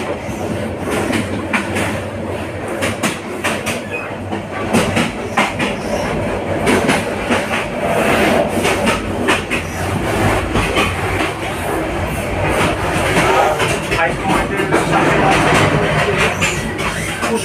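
Cox's Bazar Express train runs on the rails between Dhaka and Cox's Bazar, heard from inside a carriage as a loud, rhythmic clickety-clack over a continuous rumble, with faint voices now and then.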